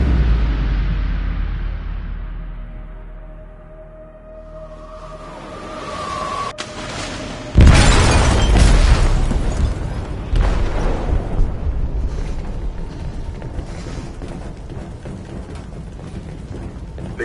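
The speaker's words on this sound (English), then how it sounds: "They detonated an explosive in the hold." A loud explosion in a PS4 video game erupts about seven seconds in, a deep booming burst aboard a ship that rolls into sustained rumbling and debris noise, preceded by quieter game ambience.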